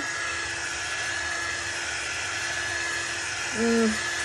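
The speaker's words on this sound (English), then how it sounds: "We're gonna grab the dryer and just give it a quick dry." A hair dryer gives a steady, loud whooshing blower hum throughout, with a brief tonal warble near the end.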